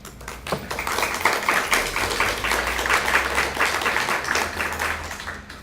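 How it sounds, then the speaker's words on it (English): An audience claps at a poetry reading in the E.P. Foster Library, a steady patter of many hands that holds at a moderate level and then tails off near the end. "You can save your applause to the end."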